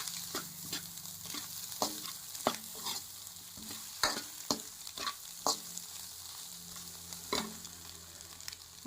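Spiced egg fried rice with chili powder is stirred in a sizzling pan, with sharp, irregular scraping strokes of the spatula over a soft, continuous frying hiss, heard alone and close.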